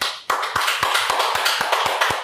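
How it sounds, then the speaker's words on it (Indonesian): Audience applause at the close of a podcast session, a run of evenly spaced sharp claps over a steady wash of many hands, loud and close, with no talking. "Tepuk tangan teman-teman."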